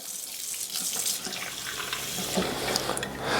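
Cold water runs steadily from a tap into drinking glasses holding ice, a continuous close splashing pour that lasts throughout, with no talk.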